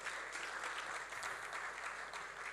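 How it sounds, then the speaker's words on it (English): A conference audience at a business event applauding a participant after a winner is announced, with dense continuous clapping that sounds fairly distant and soft and carries no talk over it. "let's give him a round of applause."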